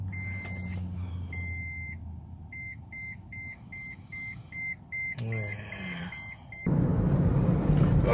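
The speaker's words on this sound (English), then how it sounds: "Okay, so the beeper went off" Car seatbelt warning beeper chiming in a taxi, a train of short even electronic beeps repeating steadily for several seconds, followed by a brief rustle and a louder burst of broadband noise at the end.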